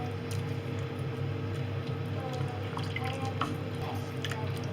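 Spicy chicken gravy gets stirred in a pot with water added, giving soft wet squelches and faint drips over a low steady kitchen background.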